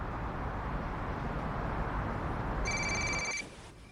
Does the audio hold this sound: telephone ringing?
yes